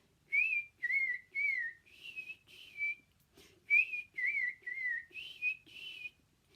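A person whistles a series of short, warbling phrases imitating robin song, each chirpy burst separated by brief pauses, clear and close.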